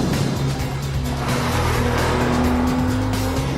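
A Porsche 911 sports car driven hard around a test track, its engine roaring loud and close throughout with steady high revs and a touch of tyre squeal.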